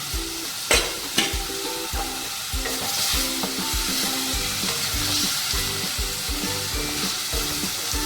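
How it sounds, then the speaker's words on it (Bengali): Taro stems fry in a spiced masala, a close, steady sizzle with repeated scraping stirs of a spoon against the pan and a couple of sharp knocks near the start. "এবারে মশলাটা কষিয়ে দেবো ভালো করে একটু চিনি দিলাম এবারে এই কচুর ঘাটিটা দিয়ে দিলাম"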